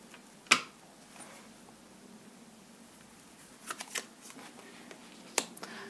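Tarot cards handled and shuffled at close range, with one sharp riffle-like snap followed by a few softer, brief card rustles and flicks over a quiet room background.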